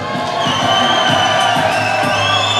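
A crowd cheers and whoops loudly and continuously for local fighter Jade Barker, a Portsmouth-based grappler, at a Polaris 26 event, with shouts rising over a steady roar.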